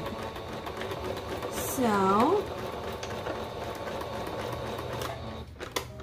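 A sewing machine runs a straight stitch along a folded fabric seam for a crop top, its steady whirring carrying on close by beneath a voice that talks over it.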